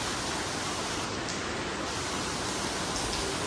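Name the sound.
heavy rain falling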